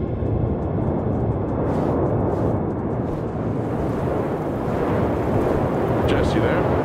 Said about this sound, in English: we're back out on the surface. But there's storms. There's storms too.